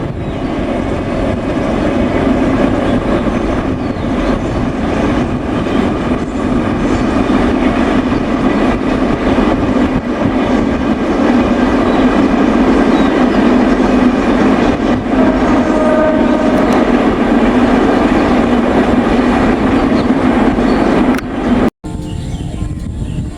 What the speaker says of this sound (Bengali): আর বৃষ্টির পরে যখন ট্রেন যাচ্ছিল, দেখুন এই দৃশ্যটি দেখতে কত সুন্দর লাগছিল।